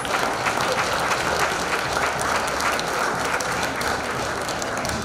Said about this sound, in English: we give them another round of applause.